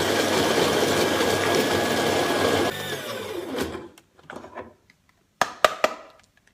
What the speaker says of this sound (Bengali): পাউডার করব এখানে আছে পনেরো গ্রাম হচ্ছে যে পাউডার করা আমার কাছে মেশিনটা আছে